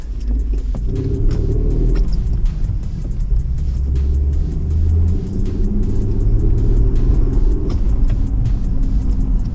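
An Acura TL with a 6-speed manual is heard from inside while driving, its engine giving a steady, loud low rumble with road noise and mild swells in pitch.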